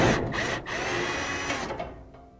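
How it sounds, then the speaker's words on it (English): A DeWalt angle drill driving the igniter screw inside a Whirlpool gas dryer whirs in short close bursts, pausing briefly before trailing off at the end. "So we got a DeWalt angle tool to get into that screw there"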